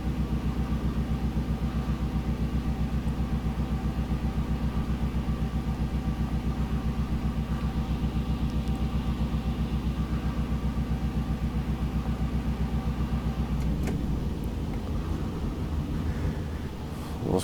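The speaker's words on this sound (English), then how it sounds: "Engine sounds, I do think, are too loud overall." A steady, loud diesel locomotive engine drone from a Union Pacific DD35 in Train Simulator Classic with a deep rhythmic throb runs continuously, shifting and roughening near the end as the revs change.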